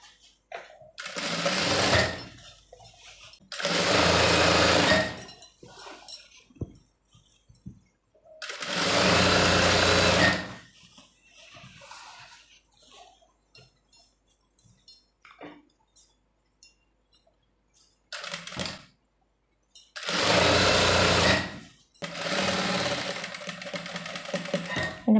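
A sewing machine stitches falls onto a saree in several loud, steady runs of a few seconds each, separated by quiet pauses with faint handling noises.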